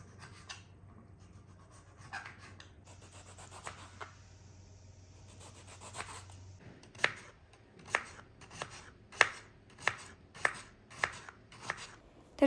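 Knife chopping beetroot, cucumber, tomato and boiled potatoes on a board for a street-style sandwich: scattered soft cuts and rustling at first, then a run of about nine sharp, evenly spaced chops, close and clear with no talk.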